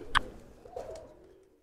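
A green-necked Kajla pigeon coos in short close calls, one sharp note followed by a softer, fading coo, quiet and alone.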